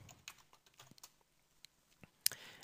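Quiet typing on a computer keyboard while entering text into a drawing program, a scattered run of light key clicks with one sharper tap near the end, close and faint.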